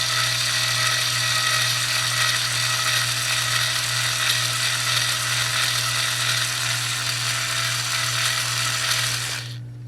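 A cordless drill drilling out a rivet on a main A/C disconnect switch whines steadily at high speed for several seconds, loud and close, then stops abruptly at the end.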